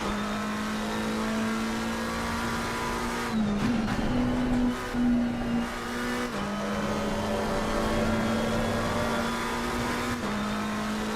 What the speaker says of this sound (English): You can still hear above the sound of the car well?